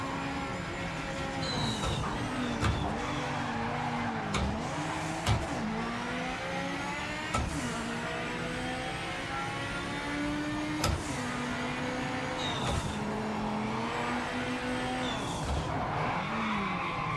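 Race car in Project Motor Racing with an engine revving up and down through gear changes and repeated tyre squeals and skids, plus sharp clicks and thumps as the rear steps out.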